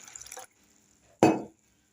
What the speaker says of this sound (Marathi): आता ह्यामध्ये आपल्याला पाणी घालायचे